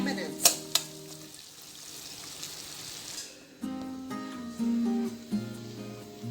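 Cashews mixed and cooked in a butter chicken masala in a pan, a steady sizzle with stirring scrapes and a couple of sharp utensil knocks, with no talking.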